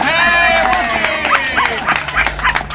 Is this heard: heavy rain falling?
no